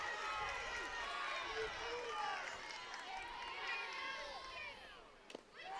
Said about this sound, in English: We've heard a lot of cheering, but just a lot more noise out of the Northwestern section than we have in the past inning.